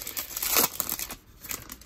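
A foil Prizm football trading card pack is torn open and crinkled up close, a loud tearing burst followed by softer crackling rustles, with no talking.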